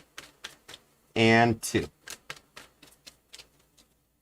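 A tarot card deck being shuffled, giving a run of crisp, rapid clicking snaps close by with short pauses between them. A brief spoken phrase breaks in partway through.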